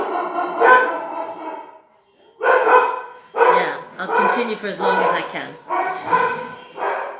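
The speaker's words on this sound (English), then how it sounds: "Sorry about the dogs." Dogs bark repeatedly in uneven bursts nearby while a person speaks over the noise.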